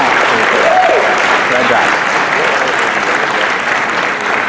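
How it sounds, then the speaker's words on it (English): A large crowd claps at a sheriff's dinner event, a loud continuous roar of applause throughout, with a voice briefly speaking beneath it near the start. "a huge round of applause for Kenneth"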